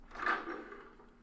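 A wooden door swings open in a single soft, short scrape and thud, dry and close, as a sound effect in a tabletop role-playing session, with no voices over it.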